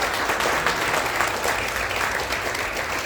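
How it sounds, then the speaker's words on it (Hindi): A large lecture audience claps loudly and continuously, a dense wash of applause filling the room throughout. "जोर से तालियां हो जाओ।"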